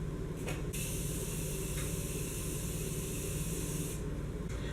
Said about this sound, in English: And then to set, I'm taking the Morphe Continuous Setting Spray.